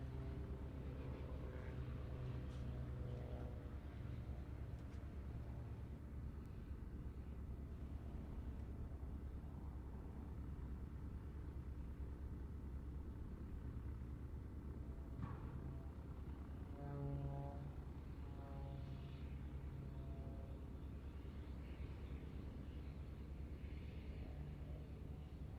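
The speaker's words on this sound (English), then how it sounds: "look at the performance of this really," An aerobatic display aircraft flies its sequence at the Farnborough International Airshow, a faint, distant engine drone that rises and falls steadily over a low crowd-and-wind rumble.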